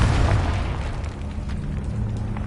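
A fire spell explosion from the Confringo curse in Hogwarts Legacy, a loud, rumbling boom that stays dense and sustained throughout with no talk.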